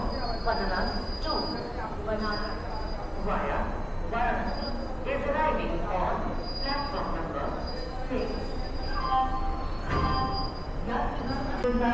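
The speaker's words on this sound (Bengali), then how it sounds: "দীনদয়াল উপাধ্যায়ের 1 নম্বর প্ল্যাটফর্মে আমরা এখন দাঁড়িয়ে আছি।" A train stands at platform 1 of Deen Dayal Upadhyaya station as the Kalka Mail with ICF coaches passes, giving a continuous rumbling roar with high wheel squeals throughout and people talking over it.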